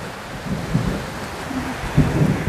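Steady rain with rumbles of thunder swelling around the middle and again near the end, a broad outdoor wash close by with no voices.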